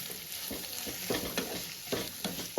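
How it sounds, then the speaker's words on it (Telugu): Bamboo shoot curry with turmeric and salt being stirred in a pan, a faint steady sizzle under soft, irregular scraping strokes from the spoon, with no talking. "పసుపు సాల్ట్ వేసామండి బాగా కలుపుకోవాలి"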